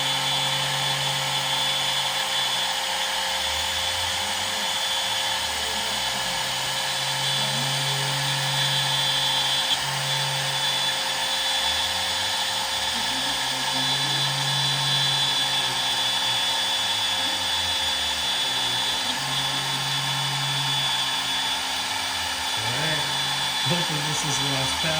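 A CNC router with a 1/4 inch straight upcut bit cutting hardwood gives a continuous high whine over a low motor hum that rises and falls as the head moves. There is no talking.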